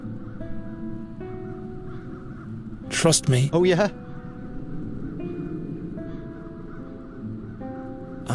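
Crows in The Dark Eye video game give a burst of loud, harsh caws lasting under a second, set over a droning game soundtrack, with voices talking before and after.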